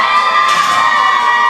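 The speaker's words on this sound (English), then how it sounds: "Huge crowd out here for her." Crowd at a powerlifting meet cheering for a lifter, a dense, loud sustained roar of shouts and whoops with no pauses.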